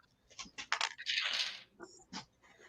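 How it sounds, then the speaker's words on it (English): Command dice rolled during a tabletop wargame of What a Tanker at a convention: a quick run of plastic clicks, then a longer rattling tumble across the table and a few final taps, close and fairly quiet. "go ahead and roll your Okay. command dice."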